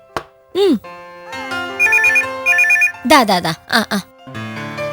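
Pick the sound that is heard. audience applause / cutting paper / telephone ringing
telephone ringing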